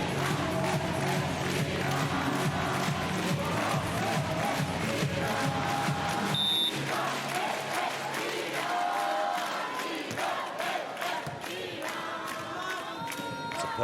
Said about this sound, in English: Plenty of Iranian fans in the crowd, young and old.